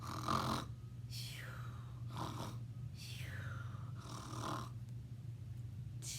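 A storyteller's voice imitates a sheep snoring at a preschool storytime: several slow, breathy snores in a steady rhythm, close and fairly soft over a low steady hum.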